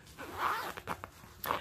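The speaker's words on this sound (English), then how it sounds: "I love the zipper actually zip and unzip very well" A zipper on a red Chanel holiday gift-set cosmetic pouch is zipped and unzipped in several quick, close rasping strokes, with no talk.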